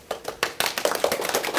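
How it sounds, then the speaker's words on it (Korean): Audience clapping to welcome a speaker at a Korean lecture on cancer treatment, scattered hand claps that start sparse and then swell into a denser, steady round of applause. "여러분들이 좀 박수로 환영 부탁드릴게요"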